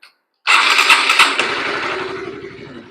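A motorcycle engine fires up at once after a brief click, a sharp loud start that settles into a steady idle.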